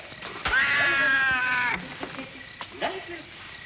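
A cat's drawn-out meow, loud and close for about a second, then a couple of shorter fainter mewing cries, with a man calling softly around it.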